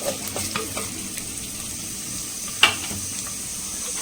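Mustard, fennel and cumin seeds fry in a pan with a soft steady sizzle and occasional faint pops. A single louder click or clack stands out partway through.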